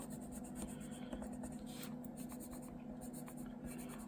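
Steady scratching of a pencil drawing on synthetic YUPO paper, close and continuous with a faint mains hum beneath, no talk.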